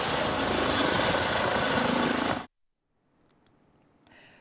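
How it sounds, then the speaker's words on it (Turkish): An ambulance helicopter's rotor and engine roar loudly and steadily, then cut off suddenly, leaving near silence with a few faint sounds. "helikopter ambulanslar acil vakalara en kısa sürede ulaşıyor"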